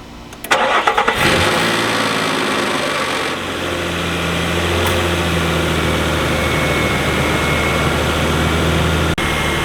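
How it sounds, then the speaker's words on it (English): A large truck engine cranks and catches, then settles into a steady, rumbling idle close by, with a brief click near the end. "Now time to start up the truck"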